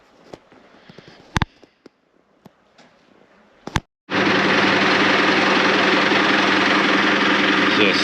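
A tractor engine before field tillage for seedbed preparation: after a few clicks and knocks, the engine suddenly roars to life and runs at a loud, steady, droning idle close by.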